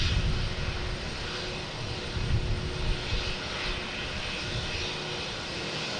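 A small Cape Air propeller aircraft lands at Boston Logan airport, heard as a sustained broad engine roar with a low rumble, fairly loud and swelling slightly, with no voices.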